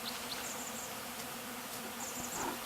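A swarm of bees buzzes steadily and close by, a continuous dense drone with individual insects whirring past, outdoors during an early-season swarming, no voices.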